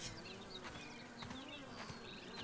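Flies buzzing in the backyard survival game Grounded, a faint continuous insect drone with several short buzzing passes over quiet background noise.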